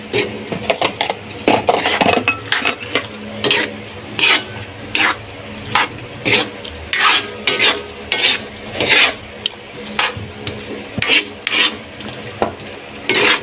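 Sautéed bitter gourd stirred in a pan, a utensil scraping and clinking against the metal in regular rhythmic strokes over a light sizzle, loud and close.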